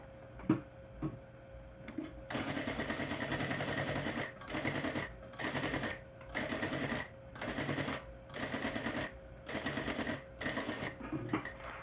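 A sewing machine runs in repeated bursts, stitching a safety seam through layered fabric on a handmade cloth bag, close and steady with brief pauses between runs.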